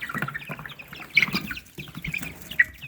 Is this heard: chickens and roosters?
yes